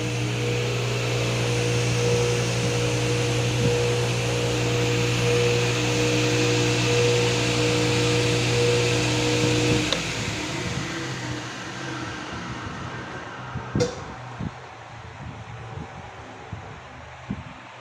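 A Maksiwa panel saw (esquadrejadeira) motor hums steadily and loudly for about ten seconds, then cuts out and leaves a quieter workshop with scattered knocks and clicks.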